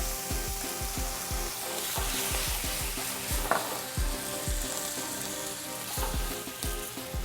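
White wine hits a hot pan of veal, garlic and tomatoes, and a loud, steady sizzle and crackle continues close by, with a soft stirring scrape underneath.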